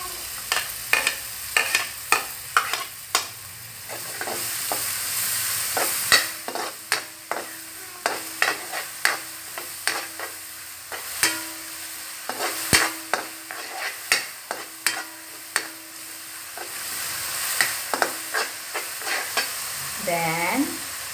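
Chopped onion sautéing in a pan while being stirred, with repeated sharp scrapes and taps of a utensil over a continuous sizzle, no talking.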